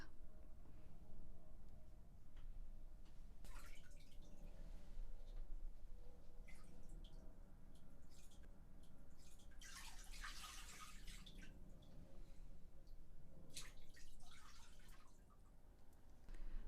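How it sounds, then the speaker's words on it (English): Faint drips and light splashes of water fall as feet are rinsed with clean water from a jug in a foot soak, with a slightly fuller pour partway through. "rinse your feet with the clean water in the jug"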